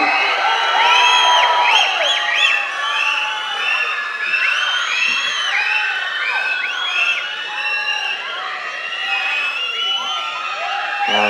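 At a Tamil cinema stage event, an audience welcoming actor SK erupts in loud, sustained cheering, whoops and shouts that gradually taper off.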